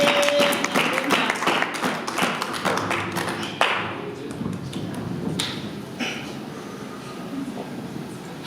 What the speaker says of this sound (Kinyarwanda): Amashyi menshi ku ijambo ry'Imana.